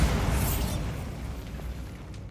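A Bombarda spell explosion from Hogwarts Legacy, a loud booming blast at the start with a rumbling, noisy decay that carries on for a couple of seconds.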